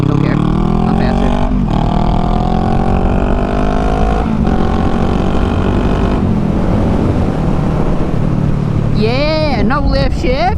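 Car accelerating hard through no-lift shifts, the engine note climbing loud and close with quick drops at each gear change, then revving strongly again, with voices talking over it.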